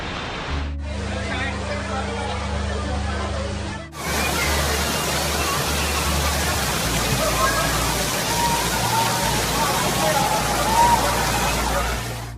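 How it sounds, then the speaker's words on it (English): Heavy rain pours down during a violent thunderstorm in Hong Kong, a dense continuous hiss of water hitting surfaces with a low hum beneath, loud and unbroken for the whole stretch. "these violent thunderstorms, which some officials are actually describing as being a 1 in 200 year rainstorm event"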